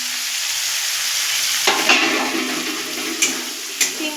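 Daliya cooks in a pan with sugar just added while it is stirred, a steady close sizzle with scraping spoon strokes and a few clicks against the pan.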